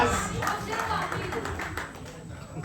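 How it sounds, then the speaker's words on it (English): An audience clapping at an event honouring achievers, a moderate scattered round of applause heard steadily throughout, with faint voices mixed in. "Please, a round of applause."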